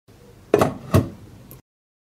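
A lid set onto a pot on the stove, two close knocking clatters followed by a fainter tap, alone without speech.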